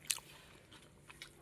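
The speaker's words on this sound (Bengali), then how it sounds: "পাতায় খাচ্ছি।" Close, crisp chewing and biting of food eaten from a leaf plate, including fried egg with onion and green chilli, with a few sharp crunchy bites standing out against a quiet background.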